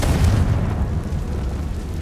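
A Confringo spell explosion in Hogwarts Legacy, heard as a single loud, deep booming burst that rolls and sustains heavily for a couple of seconds, with no talking.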